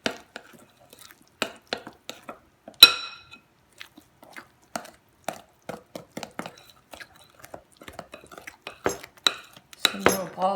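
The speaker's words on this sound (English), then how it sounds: "mix that around." Ingredients for homemade play dough, with lukewarm water just added, are stirred in a bowl, giving sparse clinks and scrapes of a utensil against the bowl with uneven pauses, close and fairly quiet, no talking.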